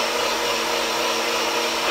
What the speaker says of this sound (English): So I'm just literally going to blitz this for like 5 seconds.